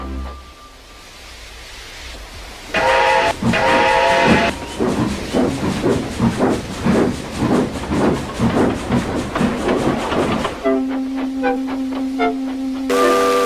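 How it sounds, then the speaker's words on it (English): A steam locomotive chuffs and clanks in a steady rhythm, with loud hissing steam and a whistle tone near the end, fairly close. "came clanking past, hissing rudely"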